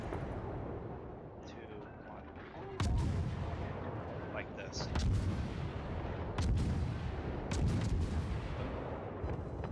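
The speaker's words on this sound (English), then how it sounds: "you're in the way of my battleship's firing" Battleship main guns fire in a naval video game as heavy booms, a big one near three seconds and further blasts after, over a rumbling battle din while a player talks throughout.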